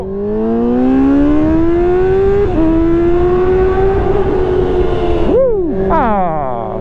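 Honda CBR650R inline-four motorcycle with a full Arrow exhaust, revving loud and close, pitch climbing steadily through a long pull with a brief shift dip, then a quick blip and drop before rising again.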